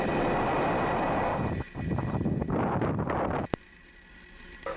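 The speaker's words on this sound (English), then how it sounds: "Engine full power. And liftoff of Starlink 3-5." A SpaceX Falcon 9 rocket carrying Starlink Group 3-5 satellites at liftoff, a heavy broadband roar rumbling loudly, then abruptly dropping to a quieter hiss with a sharp pop near the end.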